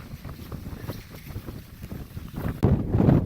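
Strong gusting wind buffets the microphone on a 13,117-foot mountain summit in winter, rumbling low and irregular, growing louder and rougher in the last second.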